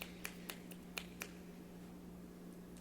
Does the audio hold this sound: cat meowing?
no